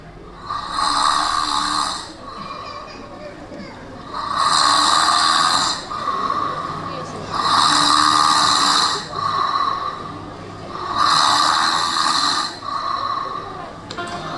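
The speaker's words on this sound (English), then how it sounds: "heard the strange snoring of the wolf." A wolf's loud, rasping snores repeat in a slow steady rhythm, about four long drawn-out breaths with quieter pauses between, close by.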